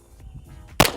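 A single sharp, loud crack from a 9mm compact pistol fired at a target 250 yards away comes near the end, after a quiet moment of background noise.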